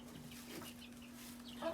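A few soft, faint clucks from large backyard chickens bought from a farm supply store, short and quiet over a steady low hum.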